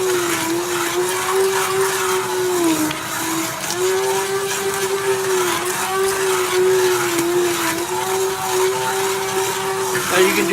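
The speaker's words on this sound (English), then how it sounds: "I'm just going to take my submersion blender here." An immersion blender purees chopped mushrooms into a creamy soup, giving a steady, loud whirring motor hum that wavers slightly in pitch as the blade works through the mixture, continuous throughout with no talking.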